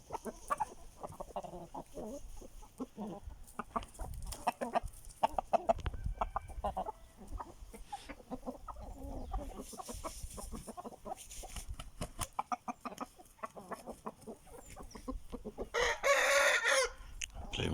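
Aseel chickens cluck and call in a farmyard, with a rooster crowing loudly near the end, over a busy scatter of close, irregular clucks and scratching.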